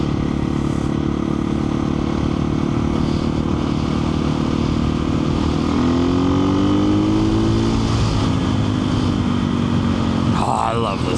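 KTM 500 EXC-F dirt bike engine droning steadily close up while cruising on country roads, with a rising and falling pitch as the rider shifts and accelerates, and wind rush throughout.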